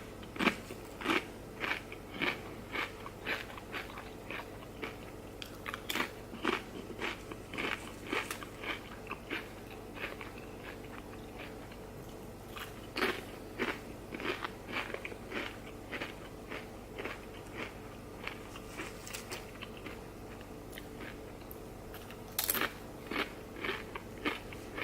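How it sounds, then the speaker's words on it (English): Doritos Buffalo chips crunch close up in repeated sharp, crackly bites and steady chewing, with a rhythmic run of crunches that continues for nearly half a minute. "They look like kind of like normal Doritos, but man, they pack a heat punch."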